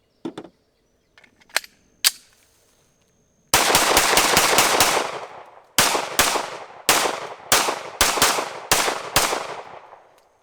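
Cheap eBay pistol golf ball launcher firing a rapid series of loud, sharp shots in close bursts, after a few scattered clicks and handling noises.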